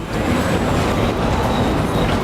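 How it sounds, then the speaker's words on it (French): A heavy vehicle rumbles past on a street in Corbeil-Essonnes, a loud, continuous low roar that holds steady from start to finish, with no voices over it. "on va laisser passer le camion."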